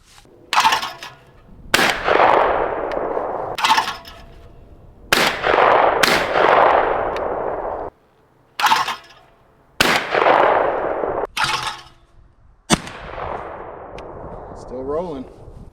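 A Stoeger M3020 shotgun fires during break-in, about eight loud, close blasts spaced a second or two apart, each ringing out with a long decaying echo.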